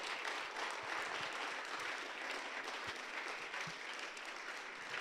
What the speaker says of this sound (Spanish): ¿Quién le da un aplauso a Dios bien fuerte,